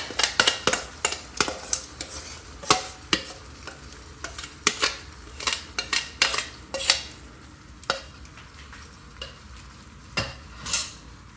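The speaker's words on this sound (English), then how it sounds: "So our shrimps have been cooking away for about 2 to 3 minutes or so." Marinated Jamaican spicy pepper shrimp cook in a pan with a steady sizzle, broken by frequent sharp scrapes and clinks of a utensil stirring, fairly close, with no talking.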